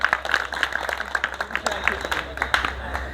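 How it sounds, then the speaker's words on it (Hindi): Scattered applause from an audience at a National Safety Day event as a company HR head is invited to the stage, individual claps audible in an uneven pattern with a speaking voice over it. "एक बार जोरदार तालियां"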